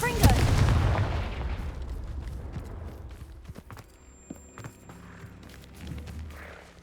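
A Confringo spell blast in Hogwarts Legacy on PS4/5, while searching for a Thestral nest: a loud, boomy burst at the start that rolls off into a decaying rumble, followed by scattered thumps and faint in-game ambience.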